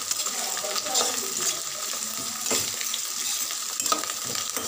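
Onion, garlic and curry leaves sautéing in a pan make a continuous sizzle with intermittent stirring clatter and scrapes, fairly close, with no clear talking.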